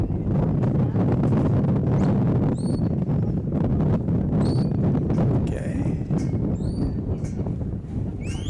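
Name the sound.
wind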